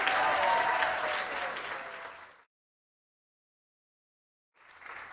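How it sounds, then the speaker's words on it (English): Lively audience applause and cheering for three door openers at a live Green Bay Packers clubhouse show, loud at first then tapering off, cutting to silence before a brief return of clapping. "Give them a round of applause."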